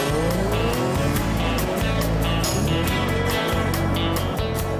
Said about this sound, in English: It's going to be fun to see what this one does off the line in a straight line run.